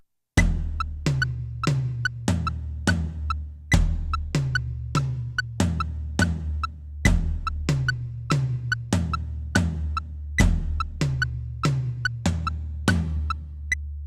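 Drum fill in a repeating dotted-eighth rhythm, looped steadily through the measure over a click track for a worship song drum part; sharp, evenly spaced hits with a constant low sustained tone beneath, played alone without talk.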